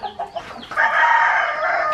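Chickens and chicks clucking close by, a few short soft clucks and peeps at first, then a louder sustained hen call that carries on to the end.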